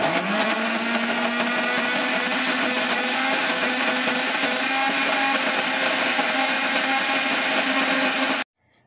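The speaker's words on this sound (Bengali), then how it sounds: "এটা ভালো করে মিক্সিতে বেটে নেব।" Mixer grinder grinding a paste with salt and sugar, a loud, close, continuous high-pitched whine that rises slightly in pitch, then cuts off abruptly near the end.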